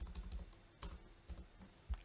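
Typing on a computer keyboard while writing HTML paragraph tags, with quick soft key clicks in an uneven run, close and quiet, no talk.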